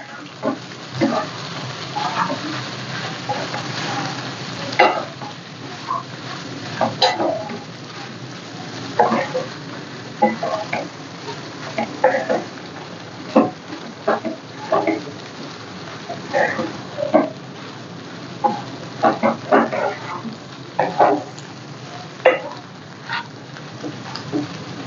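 Millet paneer noodles being stirred in a hot pan give a steady close sizzle, broken by frequent irregular scrapes and clicks of the stirring utensil.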